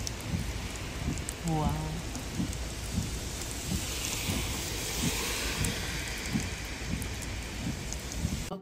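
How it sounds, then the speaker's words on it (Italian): Heavy rain pours steadily at a seaside harbour, a dense continuous hiss with soft patters throughout, while a voice briefly exclaims over it. "purtroppo sta piovendo tantissimo"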